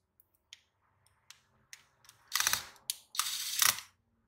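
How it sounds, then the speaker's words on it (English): Screws are driven back into a Toshiba Satellite C55D-B5219 laptop during reassembly, with small sparse clicks building into two longer bursts of ratcheting screwdriver whirring, close and quiet with no voices. "Put the screws back in."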